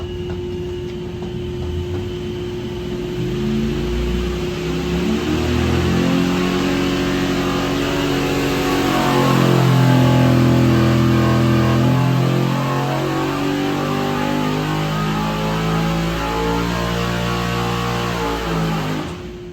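Turbocharged 383 small-block Chevy with an 88mm single turbo and hand-ported AFR 220 heads on a dyno pull, a loud sustained engine roar climbing steadily in pitch and then easing off.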